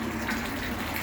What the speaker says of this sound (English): I'm just getting some more water in here now